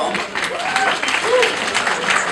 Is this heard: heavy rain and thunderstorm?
no